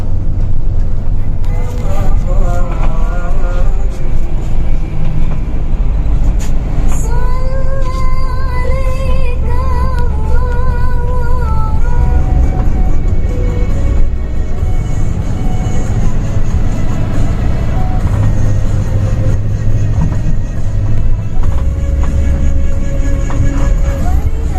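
Steady low drone inside a Budiman night bus cruising the Nagreg ring road at about 2:30 a.m., a loud continuous rumble throughout with faint tonal hums and voices drifting over it.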